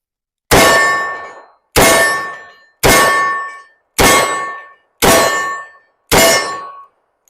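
Rounds from a Ruger GP100 .357 Magnum revolver strike a steel silhouette target, producing six loud ringing clangs evenly spaced about a second apart. Each clang decays slowly, and no one talks.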